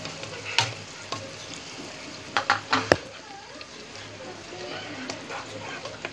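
Mutton being fried bhuna-style in a pot for yakhni pulao, a low continuous sizzle with a few sharp clanks and scrapes of a spoon against the pot, close by and without speech.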